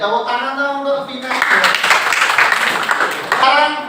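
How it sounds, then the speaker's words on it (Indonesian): Applause for Vina from a group of teachers in a coaching session, a broad steady patter of clapping lasting several seconds, mixed with voices talking over it. "tepuk tangan dong untuk Vina"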